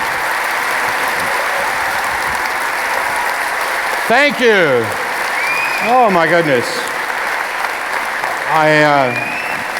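A London lecture-hall audience gives a steady, full wash of applause welcoming a speaker onstage, a voice speaking briefly over it at intervals.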